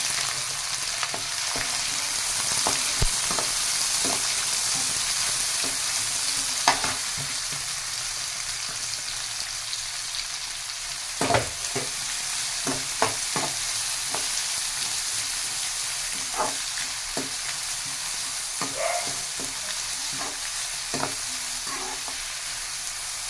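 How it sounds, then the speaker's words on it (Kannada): Onions frying steadily in a pan for egg chitranna, a broad, even sizzle with scattered sharp clicks and scrapes of stirring throughout, no voices. "ಈರುಳ್ಳಿನ ಚೆನ್ನಾಗಿ ಫ್ರೈ ಮಾಡ್ಕೋಬೇಕು"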